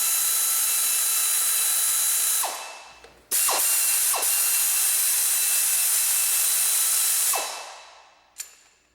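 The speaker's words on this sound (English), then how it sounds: "you can spin them out with an air ratchet" An air ratchet spins out engine starter bolts in three bursts of steady high whirring, each cutting off with a short clack, followed by a final sharp click.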